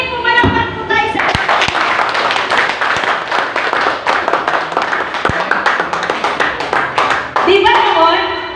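A church congregation claps together with a steady rhythm, loud and close, while a preacher talks over it and music plays at the start and end.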